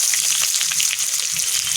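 Five-spice seeds, dried red chilli and onion hitting hot oil, giving a loud, close, continuous crackling sizzle with bright popping spatter and no voices.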